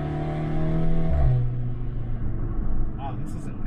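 A Volkswagen Golf 6 R's turbocharged engine pulls hard from inside the car, its steady rising drone building loudly before an apparent shift at about a second, then continuing as a broader rumble with faint high whistles near the end.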